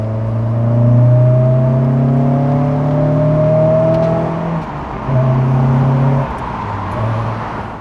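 A rebuilt Honda S2000 sports car's engine and exhaust drone loudly and close, the pitch swelling and easing as the revs climb and settle, with no talk.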